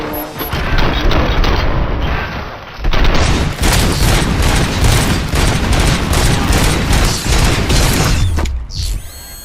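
Rapid gunfire from the RoboCop: Rogue City game, loud and dense, with a near-continuous barrage of shots and mechanical clatter that runs for several seconds, breaks off briefly, then resumes before fading out.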